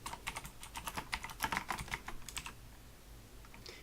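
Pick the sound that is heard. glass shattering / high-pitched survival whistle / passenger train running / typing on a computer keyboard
typing on a computer keyboard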